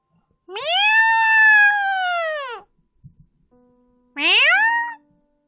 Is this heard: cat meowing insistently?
yes